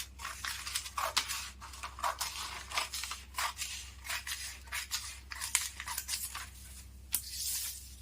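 Scissors cut around a paper pattern for a 36-size katori blouse, giving a series of quiet, close snips and light crisp paper rustles at an uneven rhythm, with no talking.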